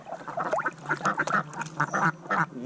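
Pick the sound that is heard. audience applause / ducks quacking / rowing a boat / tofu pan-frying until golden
ducks quacking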